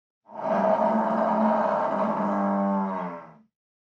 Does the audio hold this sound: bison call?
yes